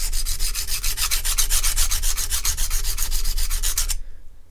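A knife blade with a broken tip being ground on a sharpening stone: a rapid, regular series of about twenty close, loud rasping strokes that stop abruptly near the end.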